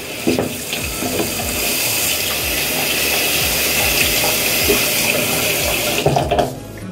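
Tap water runs steadily into a sink while a skincare tool is rinsed under it, the splashing close and continuous before the flow cuts off near the end.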